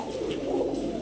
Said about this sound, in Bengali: হাই কোয়ালিটির 3 জোড়া পাকিস্তানি লাইনের কবুতর